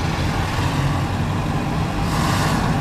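A car's engine and tyre noise hum steadily on a road, growing slightly brighter toward the end as it draws nearer.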